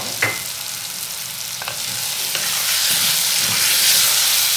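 Vegetable pulao rice with peas, salt and turmeric being stirred in a hot pan: a steady sizzling hiss with a few scraping strokes of the spoon, close and fairly loud, no talking.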